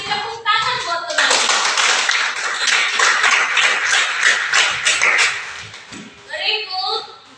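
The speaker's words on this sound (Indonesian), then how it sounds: "Tepuk tangan buat teman." A school class claps hands for a classmate, a loud run of many hands clapping for about five seconds, bracketed by a teacher talking before and after.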